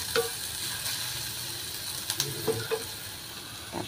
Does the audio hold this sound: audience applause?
no